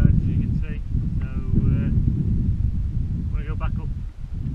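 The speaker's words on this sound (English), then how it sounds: "It's a bit windy with the clear skies" Steady wind roars and buffets the microphone throughout on the open hillside of Shillhope Law under clear skies, low and rumbling, with a person's voice speaking briefly over it.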